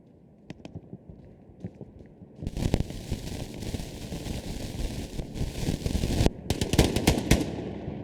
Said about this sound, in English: Bofrost makes his shots count there